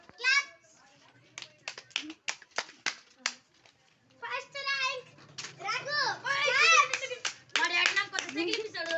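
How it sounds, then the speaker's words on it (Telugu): Children clap their hands in quick, sharp bursts, first in short isolated claps and then in denser rounds, while kids chatter and call out loudly over and between the claps. "రామ్ క్లాప్."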